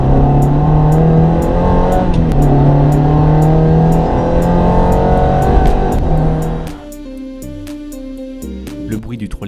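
Ferrari 360 Modena with its 3.6-litre engine and exhaust outlets, a loud sustained engine drone that drops off sharply partway through, leaving quieter mechanical sound and clicks, with talking over the car.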